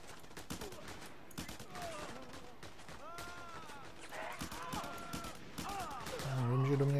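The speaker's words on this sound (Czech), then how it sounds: "Já vím, že do mě někdo ze stran střílí." Gunfire rains in on the player in the video game Just Cause 2, rapid bursts of shots crackling over a busy game soundscape while someone talks at moderate loudness.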